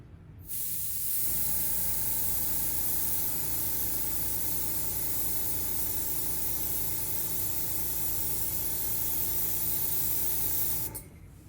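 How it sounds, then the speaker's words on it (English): A steady spray hiss of acrylic ink being sprayed runs continuously for about ten seconds, close and even, starting and stopping abruptly. "this time I will be showing me actually spraying it"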